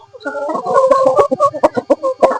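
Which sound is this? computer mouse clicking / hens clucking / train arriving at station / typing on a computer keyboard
hens clucking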